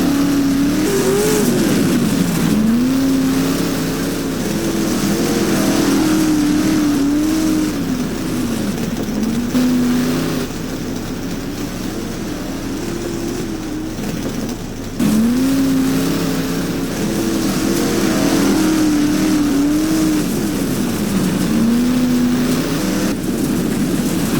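Dirt modified race cars at Blackrock Speedway in rFactor, with engines droning and revving in repeated rising and falling cycles as the cars lap, loud and steady, with no voices heard.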